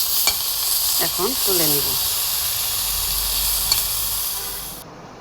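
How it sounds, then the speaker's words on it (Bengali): Bottle gourd leaves fry in a pan with a moderate, continuous sizzle, while someone speaks a short phrase over it near the start; a couple of faint clinks come through before the sound cuts off. "আমার লাউ পাতাটা ভাজা হয়ে গেছে"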